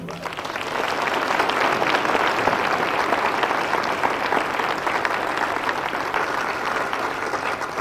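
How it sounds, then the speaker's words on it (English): An audience applauds the gospel choir soloists with full, continuous clapping that swells within the first second and holds steady for several seconds. "Give them a hand clap if they're coming by."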